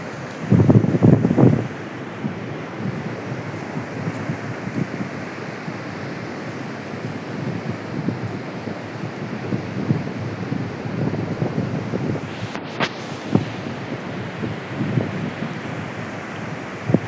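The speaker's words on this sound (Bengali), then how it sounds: "সমুদ্রের গর্জন আপনারা শুনতে পাচ্ছেন।" Sea waves roaring at Henry Island beach, a continuous broad wash of surf blended with wind buffeting the microphone, louder at the start, with a few faint clicks and knocks along the way.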